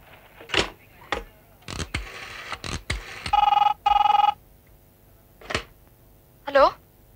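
Telephone dialing and ringing in a Kannada comedy film scene: sharp clicks and short beeps, then two steady ringing bursts and a last warbling tone, with voices around them.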